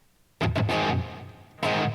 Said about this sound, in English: So you hear a nice little bit of an echo.